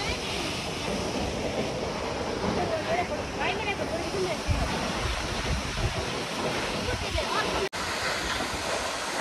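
The Kungkung waterfall in Mikwakhola, Taplejung, Nepal, gives off a steady, full roar of rushing water with some wind buffeting the microphone and voices faintly underneath.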